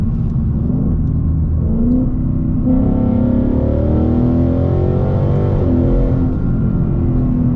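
A Ford Mustang in drag mode accelerates hard, its engine rising loudly and steadily in pitch, then dropping abruptly at two abrupt upshifts before climbing again, heard close with no talking.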